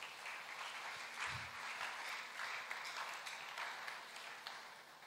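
A church congregation breaks into sustained applause at a Sunday service, a dense, steady wash of many hands clapping that holds for several seconds with a faint voice underneath.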